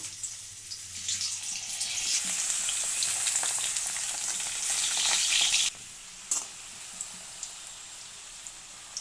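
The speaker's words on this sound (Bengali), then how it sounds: "এবারে আলুগুলো লাল লাল করে ভেজে নেব।" Potato pieces frying in hot oil, a bright, dense sizzle with stirring scrapes that runs loud for several seconds, then drops to a softer crackle with a few isolated pops.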